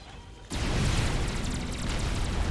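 A nuke detonating in Forged Alliance Forever among Tech 3 units: after a quiet half second, a sudden massive roaring blast that sustains as a dense, loud rumble without talk.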